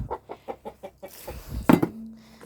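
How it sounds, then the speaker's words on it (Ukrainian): Bantam chickens in a backyard coop give a steady series of soft, rhythmic clucks up close, followed by a brief louder squawk and a short sustained call. "Тут у мене живуть бентамочки."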